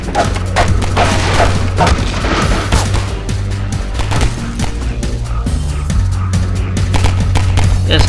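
Gunfire in Half-Life 2 aimed at the player: loud, dense bursts of shots and booming impacts over a continuous low rumble, with no talking.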